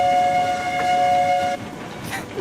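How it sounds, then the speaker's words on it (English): A multi-chime steam train whistle in Railroads Online sounds loud and sustained for about a second and a half, then cuts off abruptly, leaving rumbling train noise. "It's hard to blow the whistle in a controlled manner when there's so much lag"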